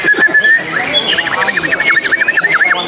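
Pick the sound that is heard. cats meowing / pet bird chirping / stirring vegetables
pet bird chirping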